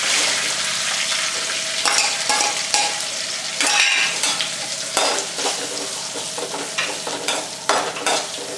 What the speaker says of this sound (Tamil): அப்புறம் கருவேப்பிலை போட்டுட்டு அப்புறம் நம்ம நறுக்கி வச்ச வெங்காயத்தை போட்டுருங்க.